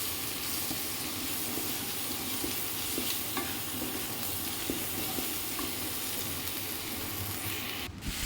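Pasta stirred and fried with butter, chopped onion, ginger and garlic in a pan, a steady close sizzle and hiss with soft scraping stirs throughout.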